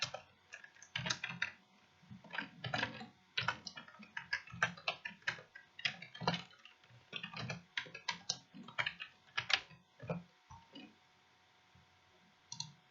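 Typing on a computer keyboard close by, with irregular bursts of quick key clicks separated by brief pauses over nearly thirteen seconds, fairly quiet and with no voices.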